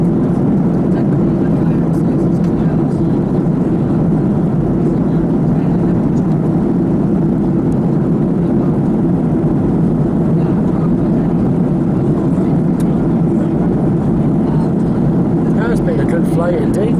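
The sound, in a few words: airliner cabin during descent towards Rhodes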